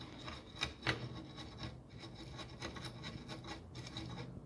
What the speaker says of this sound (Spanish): ahora voy a traer un cepillito, vamos a limpiar